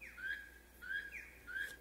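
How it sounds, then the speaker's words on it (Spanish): Parrots and toucans give three shrill whistled calls with rising and falling pitch, repeated at a steady pace and heard alone at low volume. "Gritaron los loros, tucanes, guacamayas"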